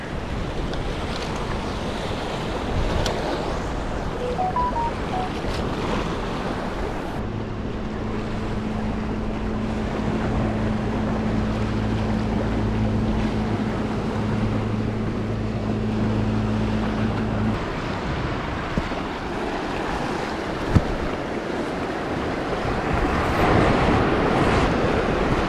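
Big ocean waves break against a small peninsula on the UK coast, a steady roaring wash of surf with strong wind noise running continuously throughout, with no one talking.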